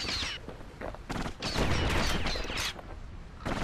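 Rapid automatic gunfire in the video game Bastion, loud dense bursts of shots rattling off in quick succession, stopping briefly and resuming across the stretch, with no talking over it.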